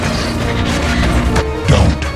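A loud cinematic crash as Optimus smashes the key, setting off an explosion: dense rumbling impact noise throughout, with a heavier booming hit near the end.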